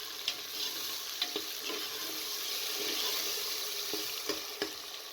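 Tomatoes go into a pan of frying dal mash in a home kitchen, giving a steady sizzle with light stirring scrapes and clinks throughout.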